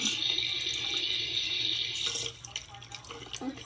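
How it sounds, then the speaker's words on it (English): A toy bathtub faucet, switched on with a button, gives a steady running-water hiss that gets quieter partway through and is joined by faint splashes and small handling noises near the end. "we push this button to the faucet button. And it's like turning the faucet on."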